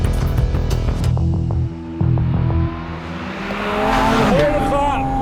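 A Porsche 718 Spyder RS with a 4-litre flat-six engine and 7-speed PDK gearbox drives in winter conditions, its engine roaring loud and close with rising revs, shifts and a brief tire squeal.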